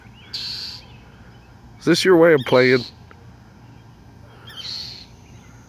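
An angry mother bird swooping at a cat gives two sharp, rapid bursts of harsh chirping calls mid-clip, loud and close, while a person talks before and after.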